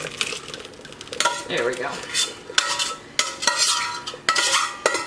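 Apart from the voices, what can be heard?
straining cooked blueberries through a strainer over a bowl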